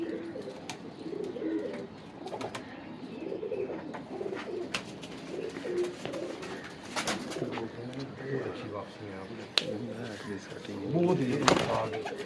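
Several pigeons coo repeatedly in low, throaty bursts nearby, while a person talks over them.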